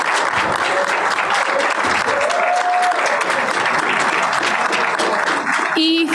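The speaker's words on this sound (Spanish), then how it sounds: "Un aplauso también para doña Pamela." An audience at the launch ceremony of a pedagogical experimentation centre applauds a speaker, steady dense clapping from a full room, with a few voices and a brief whistle near the end.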